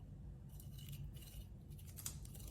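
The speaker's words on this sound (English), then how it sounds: "So I'm going to cut it this direction against the grain." Knife slicing through an oven-roasted rump roast against the grain, giving soft, repeated scraping strokes over a steady low background hum, fairly quiet and close, with no talking.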